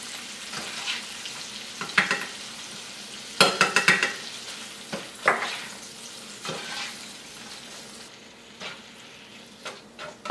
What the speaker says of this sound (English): We'll mix all this around until the shrimp is nice and pink. And until our garlic has sauteed a little bit also.